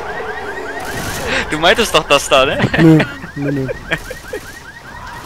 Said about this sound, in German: Und ich habe eine Alarmanlage ausgelöst.